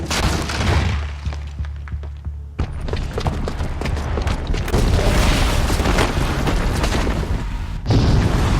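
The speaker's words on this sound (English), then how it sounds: "the booby trap on the bomb downstairs is gonna get set off" A bomb's booby trap goes off in Horizon Zero Dawn, with a heavy booming explosion followed by sustained roaring rumble and debris crashing, loud and close.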